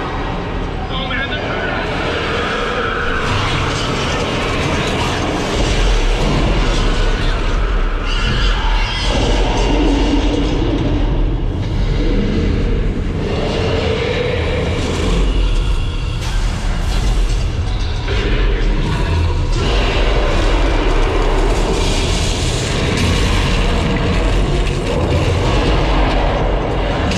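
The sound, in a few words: Universal Studios Hollywood tram passing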